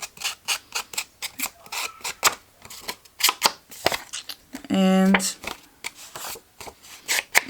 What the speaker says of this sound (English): I'm just going to sand it.